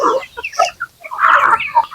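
Domestic geese on a farm give a burst of honks and clucking calls, loud and close, in irregular bursts with short gaps between.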